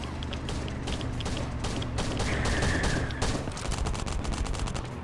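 Rapid bursts of gunfire aimed at a tank in the Last Island of Survival video game, dense repeated shots rattling continuously and loudly throughout with mechanical clatter beneath.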